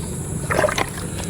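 Water poured from a bucket onto an aglaonema plant, a short splashing trickle of air-conditioner condensate landing on soil and leaves, brief and close, with no talking.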